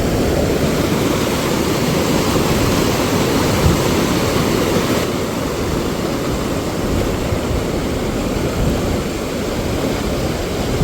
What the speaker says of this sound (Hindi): खूब रैपिड्स बन रहे हैं इसमें, पानी का फ्लो तेज है